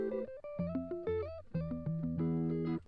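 A short melodic guitar line of plucked single notes, moving up and down in quick phrases with a slightly processed, sustained tone.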